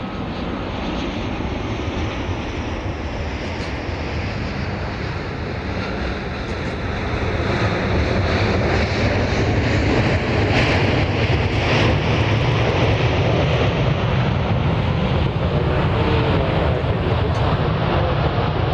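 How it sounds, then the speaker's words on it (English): Airliners on approach into Dallas Love Field in north flow, arriving from the south: a steady, loud jet engine roar that swells past the midpoint and holds, with broadband rushing noise and no talk. "We're in North Flow, so the planes are coming in from the south."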